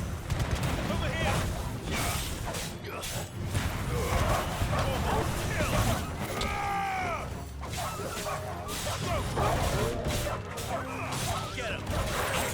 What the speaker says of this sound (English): Oh, that's a lot of dogs.